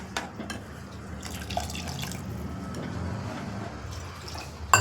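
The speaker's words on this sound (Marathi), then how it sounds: "तर इथं 1 तांब्या पाणी टाकून घेतलं" Water poured from a small pot into a cooking pot while making green pea masala rice, a steady close splashing and trickling fill that runs for several seconds with a few drips and clinks, no talking.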